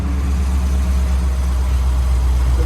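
A car engine fitted with Big Daddy headers idles with a deep, steady, loud exhaust rumble, close by and constant throughout with no talking.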